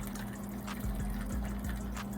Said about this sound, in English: pour 4 cups of water in the pot.